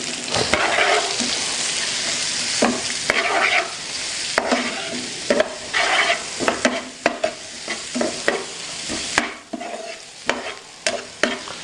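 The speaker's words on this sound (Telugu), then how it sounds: "ఉల్లిపాయ దోరగా వేగిందండి" Chopped onions frying in coconut oil with turmeric and rock salt, a close sizzle broken by frequent sharp scrapes and knocks of a spatula stirring the pan.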